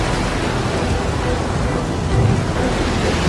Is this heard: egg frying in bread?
no